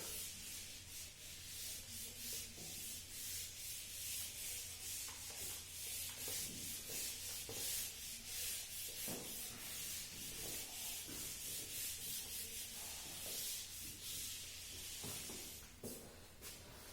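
A felt eraser scrubs a classroom chalkboard during a lecture, making steady back-and-forth rubbing strokes that run continuously and close, with no talking.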